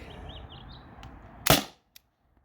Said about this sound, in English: last shot on the first mag